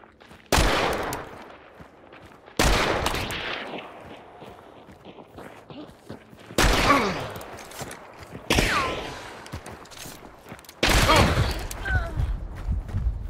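Loud gunshots in a first-person bounty-hunt video game, five sharp blasts spaced a couple of seconds apart, each followed by a decaying rumble under faint background.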